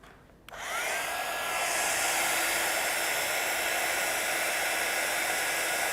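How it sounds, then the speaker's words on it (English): A handheld craft heat tool clicks on and blows a steady, loud airy whoosh with a faint whine while heat setting a card, running continuously up close without speech. "I'm just going to heat set this"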